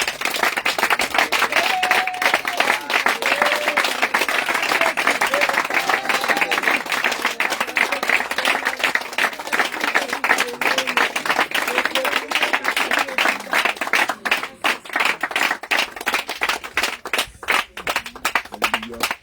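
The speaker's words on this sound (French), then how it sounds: "acclame fortement le Seigneur" Sustained applause and cheering from a church congregation acclaiming the Lord at a spiritual preparation gathering in Jacqueville, loud and continuous, with voices mixed in and the clapping thinning toward the end.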